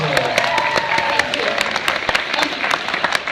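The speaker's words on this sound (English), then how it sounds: "Applause for you for that" Audience applause at a Comic-Con panel, scattered sharp claps over crowd murmur with voices mixed in, fairly close and moderately loud for a few seconds.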